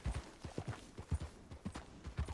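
Horse hooves plod over rocky, inclined terrain in a video game, a steady rhythm of close, moderately loud footfalls with no talking.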